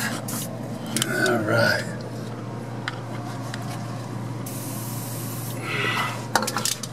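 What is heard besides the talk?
spraying WD-40 penetrating oil onto bolts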